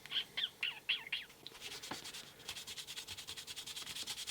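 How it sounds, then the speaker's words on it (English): A toy police car, a vintage Hot Wheels cruiser, is lightly sanded with a 1500-grit 3M Trizact sponge, a faint, rapid back-and-forth rubbing that follows a few soft chirps. "So I'm going to do a little bit of light sanding on these. This is 1500 3M Trizact sponge."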